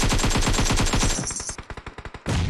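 Gunfire in PUBG Mobile rattles out as a loud, close automatic burst of rapid evenly spaced shots, then slows into separate single shots before a final loud blast.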